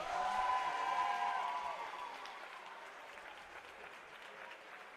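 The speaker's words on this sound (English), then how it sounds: "please give a huge round of applause" Applause from a swimming championship crowd for a 16-year-old award winner from Peterborough, starting over a brief announcer's voice, then thinning and fading.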